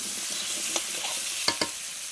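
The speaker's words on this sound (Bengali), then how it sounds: "আলুর সঙ্গে দুখানা টমেটো ভেজে নিচ্ছি" Potatoes and two tomatoes fry in a pan for a fish and potato curry, a steady sizzle with a few sharp spatula scrapes and clicks near the end.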